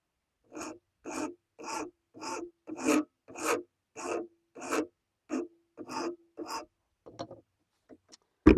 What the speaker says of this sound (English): we do that with sandpaper